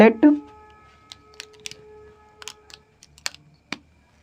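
Scattered taps and clicks of writing out a maths definition, a sparse irregular series of short close sounds following a brief opening spoken word.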